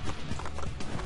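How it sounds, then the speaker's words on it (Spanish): Horse in Assassin's Creed II clip-clops in a quick run of hoofbeats, close and fairly loud, over a dense game backdrop. "¡Salta, caballito, salta!"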